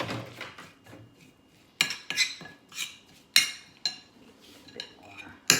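A utensil stirs homemade coleslaw with vinegar in a bowl, giving irregular clinks and scrapes against the dish, some sharp and some soft, close up with no talking.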